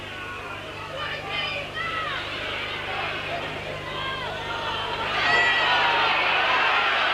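Rugby league crowd at a Castleford v Salford match, a steady distant murmur of spectators that swells louder over the final seconds, with a commentator talking over it throughout.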